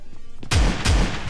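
Two heavy gunshots in the PUBG Lite battle royale game, roughly 0.4 s apart, loud and close with deep booming low ends over faint game ambience.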